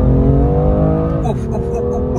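A BMW M2 Competition pulls hard out of a corner on a small road, its engine note loud and close with steady rising harmonics, while people in the car talk over it.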